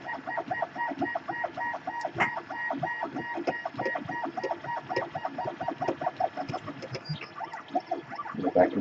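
A high-speed 3D printer builds a 40mm calibration cube, its stepper motors giving off rapid chirping, warbling tones in quick irregular bursts, close and steady throughout.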